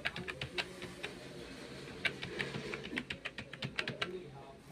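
An Aadhaar number is entered on a computer keyboard as a quick, uneven run of close key clicks and taps over a low background hum.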